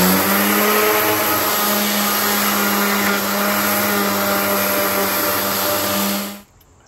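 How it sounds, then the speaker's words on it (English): An electric sander scuffing scrap wood for a rustic desk, a loud steady motor whine and grinding hum held for several seconds before it cuts off abruptly near the end. "but got a sander for that"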